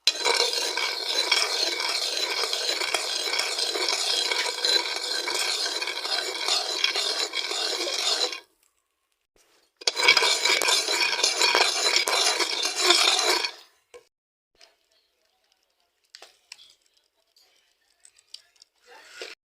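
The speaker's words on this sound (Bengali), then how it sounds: "এর মধ্যে দিয়ে দিয়েছি আমি 1/2 চামচ লবণ দিয়ে আমি এখন নাড়তে থাকবো।" French beans and salt are stirred in a pan in a long, dense run of rapid scraping and rattling, a short pause, then a second burst before it stops, leaving faint scattered clicks.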